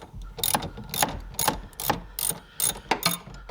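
A ratchet fitted with a 7/16 inch socket loosens a bolt during a BMW F30 interior retrofit, giving about seven quick bursts of close, crisp clicking with short pauses between them.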